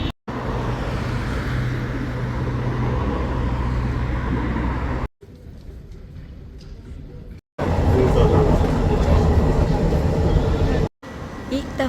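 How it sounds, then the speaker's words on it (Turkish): A metro train rolls out of an underground tunnel into the open, a loud steady rumble of wheels and motors with abrupt cuts, heard from on board. "defa metronun yer altından dışarıya çıktığını görüyorum bu arada."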